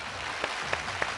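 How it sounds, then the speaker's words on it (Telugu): Audience on a Telugu game show gives a few scattered claps, thin and fairly faint over a low background hum, with no clear talking. "క్లాప్స్."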